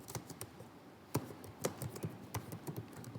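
Code is being typed on a computer keyboard: a quiet, irregular patter of sharp keystrokes with a few louder taps, close and on its own.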